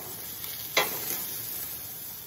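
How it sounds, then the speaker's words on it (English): Pattypan squash sizzles steadily in a hot frying pan, a constant crackling hiss with one brief scrape partway through. "I'm gonna let them sizzle."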